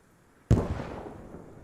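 A frag grenade explodes in the video game ARMA 3 with a single sharp, loud blast, followed by a rumbling tail that slowly fades away.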